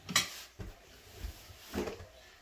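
Black pepper stirred into a saltfish fritter mixture in a bowl, heard as a few soft, scattered knocks and scrapes of a spoon against the bowl, quiet and close with pauses between.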